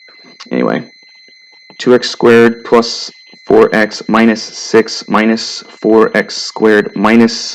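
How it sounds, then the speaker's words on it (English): An alarm holds a steady, thin, high-pitched tone in the background throughout while someone talks continuously over it. "I don't know if you guys can hear that alarm going off behind me"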